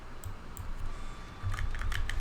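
Rapid clicking keystrokes on a computer keyboard as a wallet password is typed, in irregular bursts that grow denser toward the end, close and clear with no voices.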